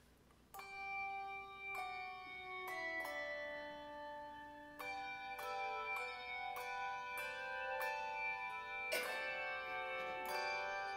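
A church handbell choir plays a Christmas service number: ringing tones struck one after another in a slow melody. Each bell rings on and overlaps the next, building to a fuller chord cluster near the end.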